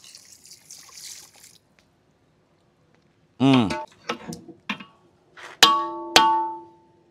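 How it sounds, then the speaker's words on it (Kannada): Water trickles into a pot of chicken biryani as it cooks, after a stretch of faint hiss and before a series of sharp metallic clanks and ringing knocks against the pot. "ಸ್ವಲ್ಪ ನೀರು ಹಾಕೋಣ."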